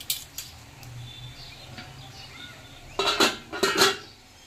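A metal lid clanks onto a cooking pot of mixed vegetables with pumpkin shoots, two quick clattering bursts after a soft simmer and a few light taps.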